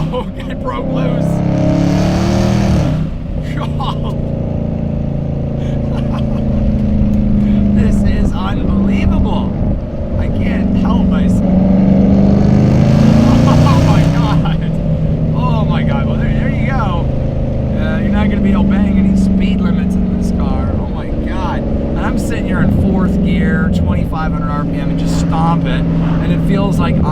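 A Dodge Challenger Redeye pulling hard from a launch, its loud exhaust roaring through rising revs in long surges with a brief lull between pulls, close and dominant, while people talk inside the car.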